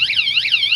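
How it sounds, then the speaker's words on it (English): A Ninebot Max electric scooter's anti-theft alarm shrieks loud and close with a rapidly warbling, rising-and-falling electronic siren tone that repeats steadily without a break. "it's a pretty loud alarm"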